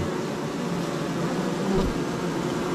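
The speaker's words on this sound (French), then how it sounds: "Là on voit bien, elles sont toutes en train de battre le rappel." A crowd of honeybees fanning to summon the colony at an apiary produces a steady close buzzing drone, unbroken and even, with a slight rise near the end.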